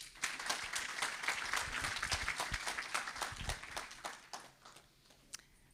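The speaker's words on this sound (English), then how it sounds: "Please give her a round of applause" An audience applauds a presenter at a travel and hospitality industry summit, a dense patter of clapping that carries steadily for several seconds before thinning out toward the end.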